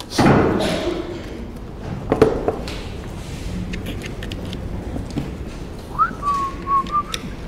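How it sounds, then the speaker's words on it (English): Something starts to whistle: a thin, rising whistling tone appears near the end, faint and steady after a few thumps and bumps, with no talk over it. "So it started to whistle."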